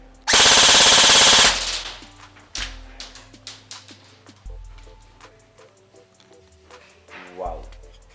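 Krytac Kriss Vector airsoft AEG on an 11.1 V LiPo battery firing a loud full-auto burst of 0.3 BBs, a dense rapid buzzing rattle lasting about a second, followed by quieter handling clicks and a brief short burst near the end.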